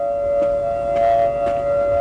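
A steady, eerie warning siren sounds on Montserrat as Soufrière volcano erupts, alerting islanders to take cover. It is a sustained, loud, unwavering tone with slight swells over a faint background.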